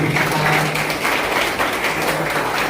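At a pensioners' association general meeting in Porbandar, an audience claps steadily and loudly throughout, a dense continuous round of applause.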